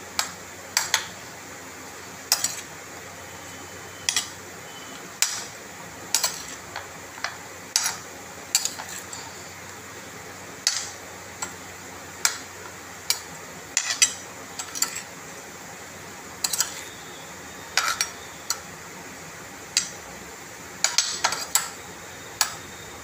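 Guava pieces are tossed with spices in a bowl, with sparse sharp clicks and taps at irregular intervals over a low steady background, close and without talk.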